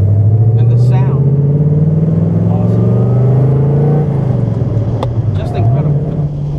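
A 1972 De Tomaso Pantera's Ford V8 pulls away off the clutch, a loud close throaty engine rising in pitch, easing off, then revving up again after a shift.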